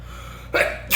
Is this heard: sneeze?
yes